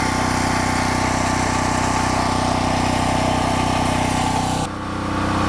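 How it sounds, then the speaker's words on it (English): A portable generator engine runs steadily and loudly with a constant droning hum, then cuts off abruptly near the end, leaving only quieter background sound. "So let's go kill the generator."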